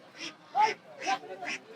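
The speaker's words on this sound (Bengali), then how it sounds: "পাঁচটা দেখতে পাচ্ছি বড় বড় হাঁস, রাজহাঁস" Ducks and geese at a busy poultry market give several short nasal quacks and honks in an uneven rhythm, close by and moderately loud, with faint crowd murmur underneath.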